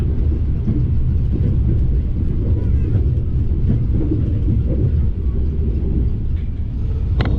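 Passenger train running straight through Cibungur station without stopping, a loud, continuous low rumble and roar of wheels and carriages that holds steady throughout.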